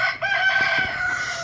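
A rooster crows once, a drawn-out, ringing call at moderate distance over faint background noise.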